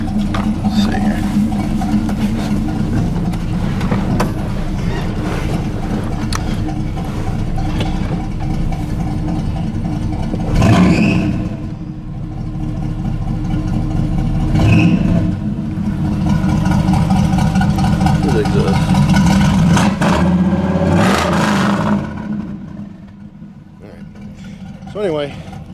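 A truck engine runs with a steady low rumble and several surges as it revs, close and loud throughout, with a voice heard over it at times.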